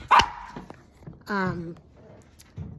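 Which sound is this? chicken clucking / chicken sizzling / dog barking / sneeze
dog barking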